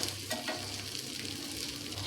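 A snack frying in a pan gives a soft, steady sizzle with faint crackling, continuous and close, with no voices.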